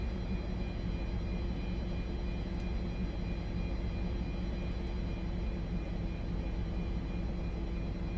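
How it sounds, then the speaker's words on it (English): A Felis Boeing 747-200 engine 3 spins up during a start in a flight simulator, a steady, loud roar and whine with thin high tones holding evenly throughout, with no voices. "Starting engine 3. Starter valve open."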